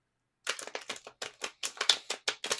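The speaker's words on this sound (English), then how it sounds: "As I'm shuffling the tarot" Tarot cards being shuffled: a quick run of crisp, evenly spaced flicks and riffles, close and fairly soft, with no talking.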